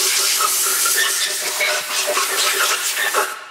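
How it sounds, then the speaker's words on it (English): Compressed air blasting over the combustion chambers of a Chevrolet 454 big block cylinder head, a loud, steady broadband hiss lasting throughout and easing off at the end. "Now we can blow it off with some compressed air."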